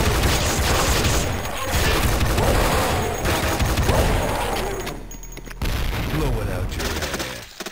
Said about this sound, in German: Und da ist ein Fass explodiert.